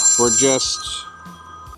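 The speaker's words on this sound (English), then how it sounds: "If the phone didn't ring, it would have been good." A phone rings with two quick electronic ringtone bursts at the start, loud and close, followed by fading tones and quiet room sound at a park construction site in North York.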